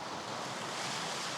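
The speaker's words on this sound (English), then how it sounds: "like a nice little stony, rocky beach kind of area here." Waves breaking on a stony, rocky beach at Sissi, Crete, heard as a dense, steady wash of surf mixed with wind noise against the microphone.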